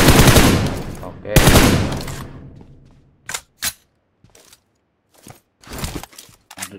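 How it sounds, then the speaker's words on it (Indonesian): Gunfire in the battle royale game PUBG Mobile, with two loud bursts early on, then scattered short, sharper shots and a final flurry, trailing off between them. "Tadi ada suara tembakan di sana."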